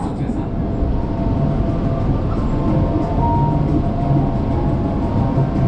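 A train passing along a sharp curve at Cilebut, a loud continuous rumble of wheels and cars rolling by close at hand with a steady heavy roar throughout.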